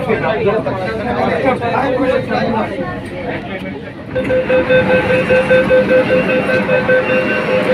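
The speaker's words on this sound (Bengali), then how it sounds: "এরপর ট্রেন ছুটে চলেছে মহাকরণ থেকে স্প্ল্যানেটের দিকে" A metro train rumbles steadily along its tracks between Mahakaran and Esplanade on Kolkata's underwater Howrah Maidan–Esplanade line, loud and close, with a rising mechanical hum and whine settling in partway through.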